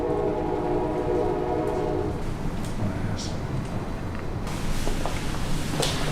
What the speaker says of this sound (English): Can you hear the train outside?